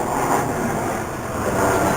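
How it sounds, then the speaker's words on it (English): A loud, broad roar of a jet aircraft passing overhead on approach to Reagan National Airport, Washington, D.C., steady and rumbling throughout with no speech. "There's the plane noise we was talking about, National Airport."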